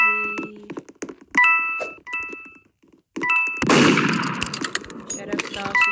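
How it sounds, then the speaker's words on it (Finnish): Gunshots in the Roblox video game: sharp cracks and thuds mix with bright electronic game tones, building into a dense, noisy burst in the second half. "Sheriff taas innostuu ampumiseen"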